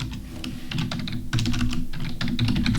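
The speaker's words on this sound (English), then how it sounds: "So we're typing up content in here." Steady typing on a computer keyboard while entering website content, a continuous patter of close, quick key clicks with no talk.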